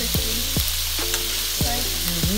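Chicken crisping in a hot pan over moderate heat gives a steady close sizzle and crackle, broken by a few sharp stirring scrapes and clinks, with no talk.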